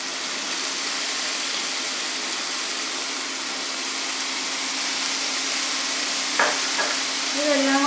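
Red chilli sauce and soy sauce sizzle steadily in a pan, a constant hissing fry with a brief clatter of stirring near the end.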